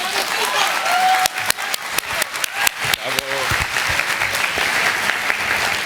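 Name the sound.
audience applause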